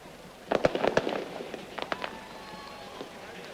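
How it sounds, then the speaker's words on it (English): Fireworks and firecrackers go off amid a football stadium crowd during a 1990 World Cup qualifier between Paraguay and Colombia, a quick cluster of sharp bangs followed by a few scattered later pops over steady crowd noise. "Fireworks in the crowd"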